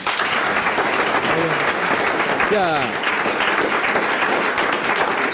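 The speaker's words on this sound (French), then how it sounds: "applaudir Monsieur Roland" A television studio audience gives steady, dense applause that carries through the whole stretch, with a brief voice heard over it.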